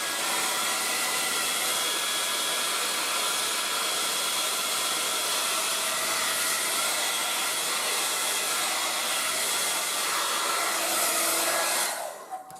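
A Revlon 1800W dual-speed hair dryer roars steadily at full turbo speed with a loud, even whooshing hiss, then cuts off abruptly near the end.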